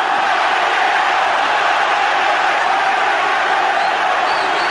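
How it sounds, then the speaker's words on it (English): Dense, steady roar of a large boxing arena crowd cheering and shouting throughout the late rounds of the Erik Morales vs Marco Antonio Barrera fight, loud and continuous with no pauses. "Just listen to the crowd"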